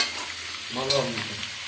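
Mutton stirred in hot oil for biryani, a continuous close frying sizzle with a brief stirring scrape near the middle.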